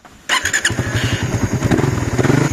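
A habal-habal motorcycle engine is started up close, with a sharp catch after a brief quiet start, then a quick, loud, rapidly pulsing idle.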